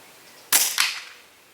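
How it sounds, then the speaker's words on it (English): An air rifle fires at a jackdaw perched above a chicken pen outdoors: a single sharp, close crack followed a moment later by a second fainter impact or echo, with no talking. "I've just shot a jackdaw"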